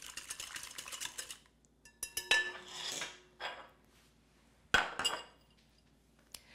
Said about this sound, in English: You want to give this a stir just to combine everything together so it's nice and smooth.